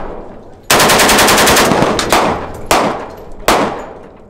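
Rapid full-auto gunfire from a Russian-made firearm at a shooting range, a loud sustained burst of closely spaced shots followed by three separate heavy shots, each ringing out and decaying, with no talk over them.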